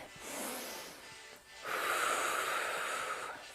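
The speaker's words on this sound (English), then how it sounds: "Deep inhales and exhales." Deep, close breathing during an at-home resistance band workout, a breathy inhale followed by a longer, louder exhale with no talking.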